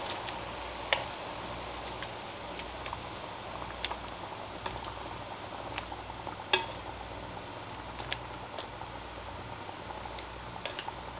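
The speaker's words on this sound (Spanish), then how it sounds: "El agua ya está hirviendo" Water boils in a pot as chicken cooks for chicken in cream sauce, a steady bubbling hiss with soft pops and occasional clicks, heard alone without talk.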